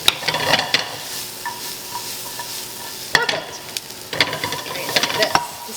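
Vegetables sautéing in a pan for an asparagus, pea and egg tart: a soft steady sizzle broken by bursts of spoon stirring and pan clatter, close and alone.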